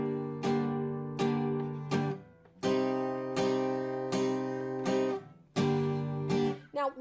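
Acoustic guitar chords for a reggae song, strummed and left ringing without muting the strings, about eight loud sustained strums in an even rhythm, each ringing on until the next.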